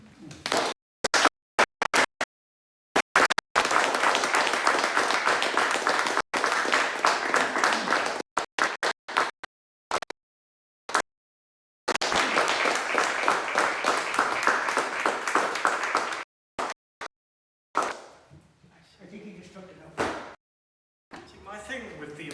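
An audience applauds after a poetry reading, with bursts of dense clapping broken by abrupt silent gaps and some talking toward the end.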